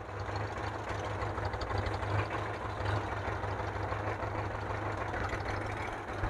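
A misfiring Mitsubishi 4D56 diesel engine idling, a steady low rumble with an uneven, lumpy pulse, close and continuous, with no talk.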